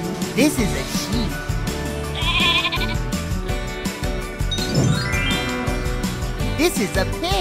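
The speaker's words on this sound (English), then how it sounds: "This is a sheep." A cartoon farm sheep bleats several times, clear and close, over cheerful children's music with a light jingle.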